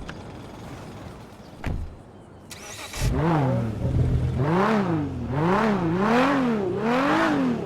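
A Nissan Skyline GT-R35 twin-turbo 3.8-litre engine in GTA 5 fires up after a couple of clicks, then revs repeatedly in rising and falling sweeps, loud and close with no talking.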